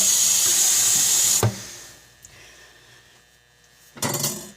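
Plain water pours into a cooking pan for brown gravy in a steady, rushing stream that stops abruptly with a clunk, followed by a quiet hum and a brief second splash near the end.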